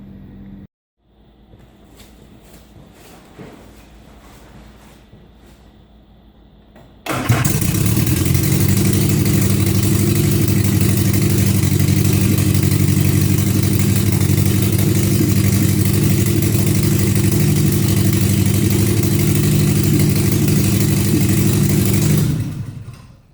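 An Austin-Healey Sprite engine cranks and fires after several seconds of quiet, then settles into a loud, steady idle close by that runs without a break until it is shut off near the end.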